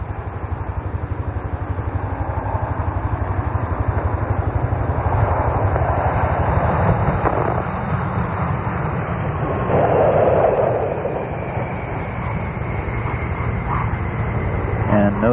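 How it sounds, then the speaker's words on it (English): Space Shuttle Columbia rolls out on runway 33 at Kennedy Space Center after main gear touchdown: a continuous, loud, low roar and rumble from the landing vehicle, with a voice talking over it. "Rolling out on runway 33 at the Kennedy Space Center"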